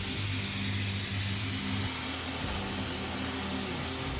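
Steam pressure venting from a lobster steamer pot, a loud continuous close hiss that eases slightly partway through and keeps rushing to the end.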